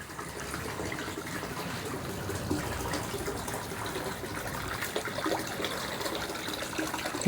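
Water trickling steadily in a garden fish pond, a continuous soft splashing and babbling at moderate volume with no talking.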